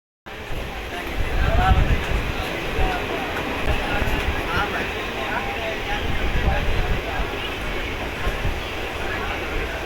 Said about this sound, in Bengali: আমাদের গাড়ি এখন এসে দাঁড়িয়েছে চামাগারাম স্টেশনে